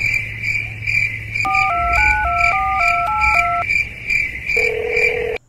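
A telephone call being placed: a quick run of keypad dialing tones, then a steady ringing tone on the line, with a constant high insect-like hum in the background.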